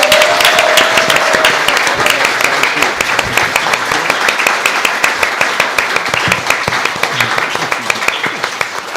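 An audience at a Minneapolis Ward 11 city council candidate forum claps steadily, a dense sustained applause that fills the room throughout.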